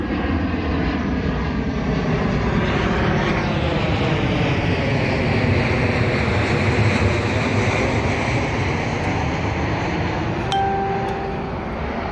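A fixed-wing aircraft passes overhead as a steady, loud, broadband engine roar that fills the whole stretch with little change, with no talk.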